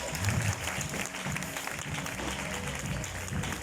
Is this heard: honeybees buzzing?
no